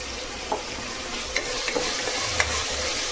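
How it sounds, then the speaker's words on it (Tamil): Tomatoes sautéing in a pan at home for a rice dish, a soft continuous sizzle with a handful of light spatula taps and scrapes scattered across it, no voices. "நல்லா இது வதங்கட்டும்"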